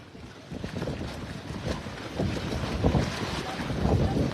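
Strong wind in Oroquieta City buffets the microphone in rising, gusty roars, with a low rumble building toward the end.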